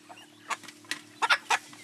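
Short-legged village chickens in Tanzania clucking in a few short bursts, moderately near, with a steady low hum beneath and no talk.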